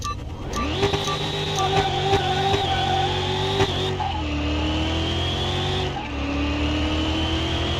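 A supercharged OHV drag car with slicks launches in Car Mechanic Simulator 21, its engine howling loud and close, climbing through gears with sharp drops at each shift.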